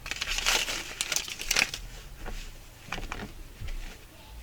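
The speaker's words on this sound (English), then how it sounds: "I'm gonna go ahead and cut this open here." A packaged item from a sewing shop cut open: scattered crinkling and rustling of plastic wrap with small crackles, fairly quiet and close, and no one talking.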